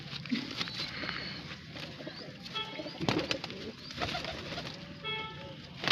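Domestic pigeons kept by a fancier coo close by in low, repeated throaty calls, with brief wing flutters, other birds chirping and a few clattering sounds around them.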